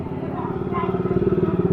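Someone's motorcycle running close by, a low, even engine putter with quick regular pulses, with a voice speaking over it.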